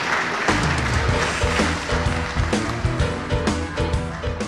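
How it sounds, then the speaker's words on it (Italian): An Italian audience applauds students from Lecce, a continuous patter of clapping mixed with a droning background tone, steady and moderately loud throughout. "Posso chiedervi di farvi un applauso perché siete molto bravi?"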